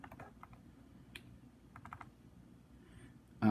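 Buttons are pressed on a TI-Nspire calculator in a quick, uneven series of soft, faint plastic clicks. A louder knock lands at the end, and there is no talking.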